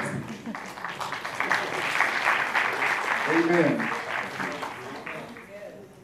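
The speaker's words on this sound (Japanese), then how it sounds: "Let's give our interpreter a great hand clap" A gospel conference crowd gives the interpreter a warm round of hand clapping, a dense, sustained patter that swells in the middle and tapers off, with a voice speaking briefly over it.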